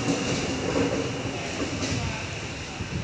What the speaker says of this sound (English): Approaching platform 1, we have an empty train. It is an 8-car Tangara.